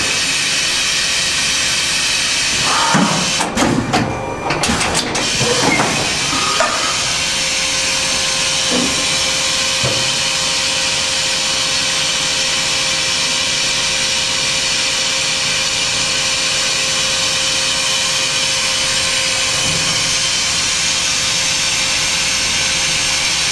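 A 2000 Okuma Howa Millac 438V four-axis CNC vertical machining center spindle runs at 3750 RPM with a continuous, even whine and hiss, plus a brief burst of clattering noise early on.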